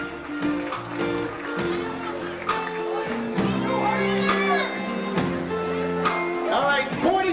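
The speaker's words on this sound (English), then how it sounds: "Let's have a nice round of applause for those folks over there." Wedding guests at a 2001 reception clap and cheer on the dance floor, a lively crowd with whoops and shouts over music, with voices mixed in throughout.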